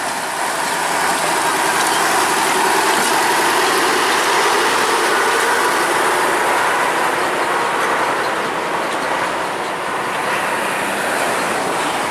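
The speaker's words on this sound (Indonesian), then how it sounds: "Ini dia lokomotif D05 PG Jatiroto menarik rangkaian lori milik PG Semboro." A D05 locomotive of the PG Jatiroto sugar mill hauls a train of sugar-cane lorries, its engine drone and steady rail rumble loud and continuous throughout, with no talk.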